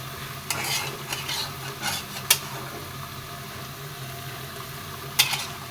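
Fish sautéing in a pan sizzles steadily with a low hum beneath, broken by a few sharp clanks and scrapes of a utensil against the pan, with no talk.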